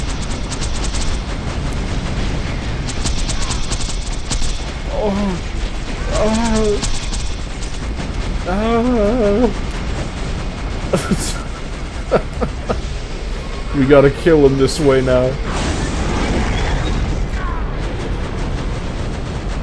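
Turret gunfire and explosions crackle and boom steadily through a Borderlands 2 firefight on the PS Vita, with sharper bursts near the middle and end, while someone talks over the din.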